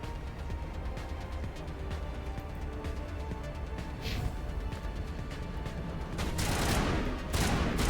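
Shotgun fire in a Mass Effect combat fight, several booming blasts amid clattering rapid gunfire and impacts, loud and close, with sharp bursts near the end.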